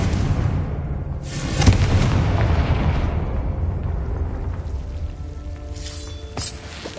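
Confringo spell explosion in the Hogwarts Legacy video game: a loud, booming blast with a sharp crack near the start, followed by rumbling debris that fades out, with a second smaller burst near the end.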